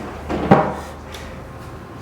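A sliding door in a Bali spa room in Sanur opens or closes with one soft rolling thud, a short wooden knock heard close by in a quiet room.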